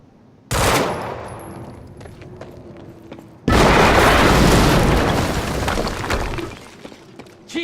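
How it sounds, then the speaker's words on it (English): Explosions and gunfire in the video game Quantum Break: a sudden loud blast, a stretch of debris and rumble, then a second bigger burst of heavy booming noise that lingers and slowly fades, with no talking. "we just heard an explosion near the harvesting perimeter"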